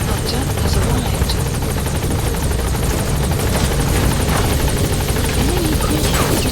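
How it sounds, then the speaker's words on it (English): Support helicopter in the video game Metal Gear Solid V arriving at a landing zone, a loud, steady rotor drone with rapid chopping beats filling the whole stretch, with faint voice sounds underneath. "Support helicopter has arrived."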